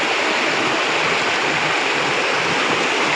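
Water rushes steadily at the source of the Hinkhuwa Khola, a dense, loud, unbroken roar of a fast stream, with no voices.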